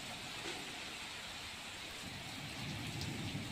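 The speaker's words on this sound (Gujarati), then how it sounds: "માંગરોળમાં ગાજવીજ સાથે ભારે વરસાદ" Heavy rain falls steadily on surfaces in Mangrol, Junagadh, during a thunderstorm with gusty winds, a loud, unbroken wash of drops close by; any thunder is not distinct.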